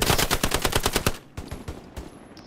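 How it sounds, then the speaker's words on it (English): An enemy machine gun in a video game fires a rapid, loud burst of evenly spaced shots for about a second, followed by a few scattered, fainter cracks. "He's shooting me."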